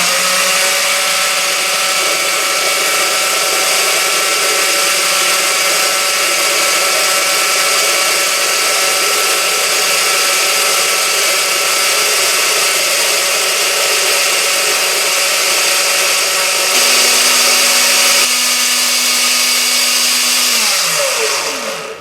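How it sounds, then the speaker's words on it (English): A blender whirs loudly and steadily for a long stretch, its pitch shifting briefly near the end before winding down to a stop. "I'm going to start the blender"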